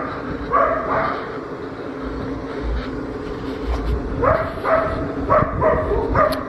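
On a city street walk past colorful buildings, a dog barks several times in short bursts, fairly close, over traffic and outdoor background noise.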